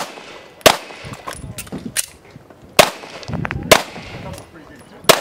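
Handgun shots ring out at a Texas Tactical IDPA shooting competition stage. Four loud, sharp reports come at uneven intervals, close by, with faint background voices and range noise between them.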